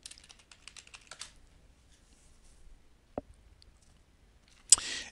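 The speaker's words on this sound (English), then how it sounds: "Let's just go ahead and type in guitar lessons." Quiet keystrokes tapping on a computer keyboard as a search for guitar lessons is entered, a quick cluster of soft clicks at first, then a lone tap and a brighter burst near the end.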